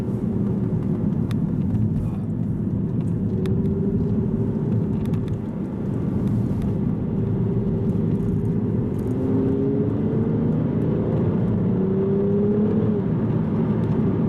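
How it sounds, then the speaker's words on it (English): An Aston Martin Virage with a single-clutch gearbox accelerates, its engine note climbing and dropping through quick gear shifts, heard from inside the car as a steady, loud drone. "those gear shifts are really quick"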